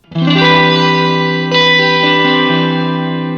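Electric guitar played through a Catalinbread effects pedal set for a sparkly, shimmering reverb: a sustained chord rings loud and alone, a second strum at mid-clip, with a long wet tail and no talk.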